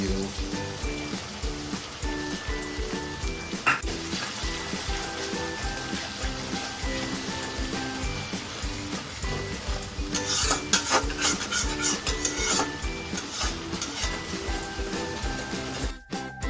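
Chicken pieces fry in a pan before a yogurt marinade goes in, a steady low sizzle with scraping stirs under a constant tonal background, close and moderate in level.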